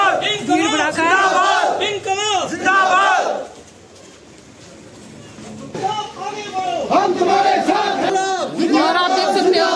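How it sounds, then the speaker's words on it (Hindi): Large, dense crowd gathered at an independent candidate's nomination filing rally in Bhaderwah, loud cheering and shouting voices swelling, dipping briefly, then surging again. "और आप देख सकते हो कितना ज्यादा भीड़ भड़ाका है।"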